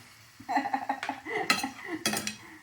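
Pasta for aglio e olio being stirred in a pan, a run of close metallic scrapes and clinks of utensil against pan in uneven bursts, with no talking.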